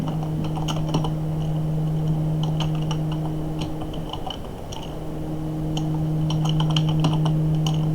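Steady clicking of keys on a computer keyboard, irregular bursts of keystrokes over a constant low electrical hum, close and fairly quiet, no voices.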